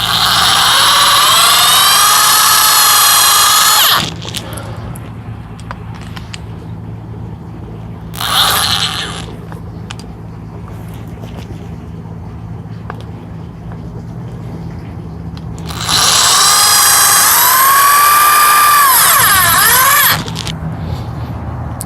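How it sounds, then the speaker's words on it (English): Electric drill driving stainless steel self-tapping screws while a hoop house is built over a raised grow bed: three loud bursts of high, whining motor spin with rising pitch, separated by a quieter low background hum. "And I am using an electric drill."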